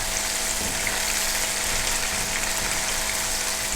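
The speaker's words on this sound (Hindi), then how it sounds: "जब तक हमारा प्याज ब्राउन होता है अब इसमें हम डालेंगे ज़ीरा और काली मिर्च।" Cumin and black pepper sizzle in a pan of onions browning in oil for dhaba-style masoor dal, a loud, steady, even crackle of frying that runs without a break.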